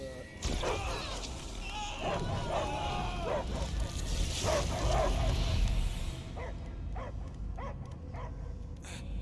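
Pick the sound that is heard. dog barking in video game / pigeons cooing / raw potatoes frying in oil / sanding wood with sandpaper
dog barking in video game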